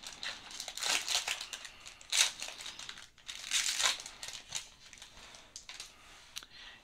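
Topps Gallery baseball card pack wrappers being opened, with close, crisp crinkling and tearing of foil wrappers in repeated bursts.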